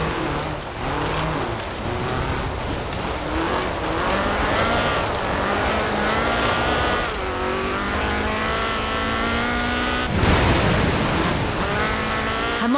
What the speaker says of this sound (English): a car designed explicitly for rallying, with a powerful fuel-injected 1790cc Cosworth BDE engine